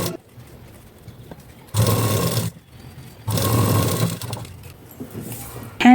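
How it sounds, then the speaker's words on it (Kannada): Sewing machine stitching fabric-covered bag handles, heard as two loud, close bursts of rapid stitching of about a second each, separated by quieter pauses, with a short start of a third burst at the end. "ಅದನ್ನು ತಗೊಂಡು ಬಟ್ಟೆಯಲ್ಲಿ ಕವರ್ ಮಾಡಿಕೊಂಡು ಸ್ಟಿಚ್ ಮಾಡ್ಕೊಳ್ತಿದ್ದೇನೆ."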